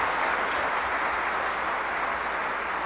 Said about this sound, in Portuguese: todo mundo aí, uma salva de palmas para os idosos